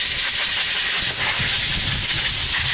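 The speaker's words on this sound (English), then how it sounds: "Blow all the dust off of it." Compressed air blasts steadily over a Troy-Bilt TB200 push mower's carburetor, a continuous loud hiss with no pauses and no talking.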